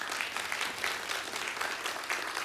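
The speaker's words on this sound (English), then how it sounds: "That deserves another clap." A church congregation applauds together, steady dense clapping filling the room at moderate level for the whole stretch, with no speech over it.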